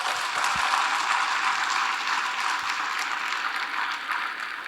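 Audience applause at a regional leadership training conference in Hong Kong, a dense and continuous wash of clapping from a large crowd that stays strong throughout and eases slightly toward the end.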